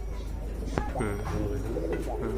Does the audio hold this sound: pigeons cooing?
yes